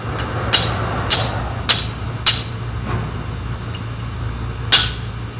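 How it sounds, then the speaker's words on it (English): A die driver tool taps a drilling tong die in its groove: six sharp metallic strikes, the first five evenly spaced about half a second apart, then a pause before a final tap, with a faint hum underneath. "Set the wedged end of the die tool in the die groove and tap it."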